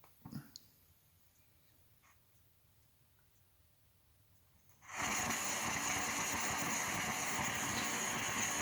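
A multi-fuel camping stove burning kerosene roars to life after a quiet stretch with faint clicks and a knock, then holds a steady, loud, broadband hiss and rumble.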